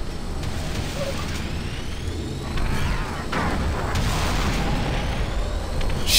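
Deep booming grenade blasts and mechanical clatter from combat in the video game Doom 3, with a heavy rumble building midway and continuing to the end.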